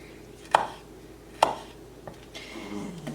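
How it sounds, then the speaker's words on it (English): A knife chops on a board while lamb kofta with vegetable couscous is prepared, two sharp distinct strikes about a second apart, then quieter faint movement, close and fairly quiet with no talk. "slice those into strips and then into small pieces"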